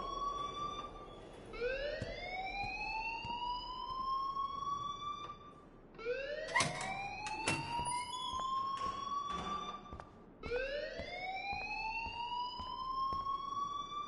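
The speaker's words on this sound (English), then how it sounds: "please turn off that alarm since that's your job" An alarm wails in the video game Life is Strange, rising siren sweeps repeating every few seconds, loud and steady with no speech over it.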